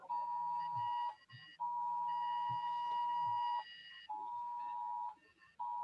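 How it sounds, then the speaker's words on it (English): An Amber Alert emergency tone blares from a cell phone, a harsh, steady electronic drone sounding in long bursts broken by brief gaps, loud and continuous over several seconds. "That's my cell phone. I left it still on. Amber Alert up in the Navajo reservation."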